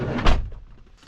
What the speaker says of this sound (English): So I'm going to close this door here.